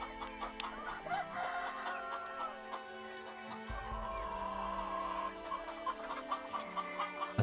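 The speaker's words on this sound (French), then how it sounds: "Construire un élevage de poulets." Chickens cluck steadily at a poultry farm in the city-builder game Laysara Summit Kingdom, set against a continuous bed of ambient game sound with an occasional crowing note.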